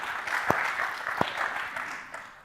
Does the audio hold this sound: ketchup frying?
no